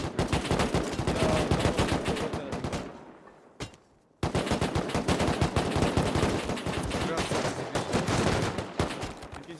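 Rapid automatic gunfire in the video game Rust rattles in dense, loud bursts, breaks off for about a second, then resumes as sustained close-range shooting.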